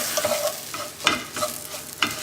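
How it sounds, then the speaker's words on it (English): A spoon stirs chicken curry with salt in a pot over a low flame, producing scraping strokes and a soft sizzle, with a few louder clanks of utensil against metal and no voices. "Stir that all."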